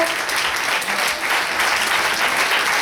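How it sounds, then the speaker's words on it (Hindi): An audience at a college commemoration event honoring professors breaks into continuous, fairly loud applause that holds steady from start to finish. "एक बार जोरदार ताली से स्वागत करें, तालियों में कंजूसी करें दोस्तों।"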